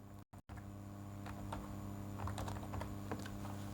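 Keys clatter on a computer keyboard as a name is typed, a quiet run of uneven taps over steady room hum with a couple of short dropouts near the start.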